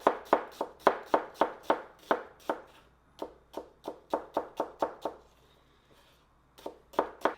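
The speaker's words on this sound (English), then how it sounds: "So on these ones, I'm just gonna julienne the onions." Knife julienning onions on a board for burgers: a run of crisp, evenly spaced chops, close and distinct, pausing briefly mid-way before a second quick burst and a few final strikes.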